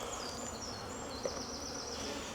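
A steady, close droning buzz of many honey bees around hive boxes, continuous and even, with a brief faint click partway through.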